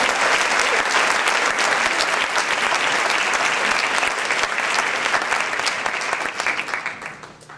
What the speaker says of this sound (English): Give a round of applause for the Drumline for both of us.